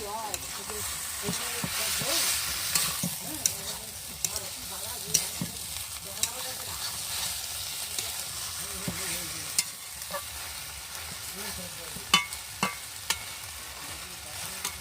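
Chopped coriander greens sizzle and fry in a pan of Bengali mixed-greens curry, with a steady soft hiss, scattered sharp clicks and pops of a spoon stirring throughout.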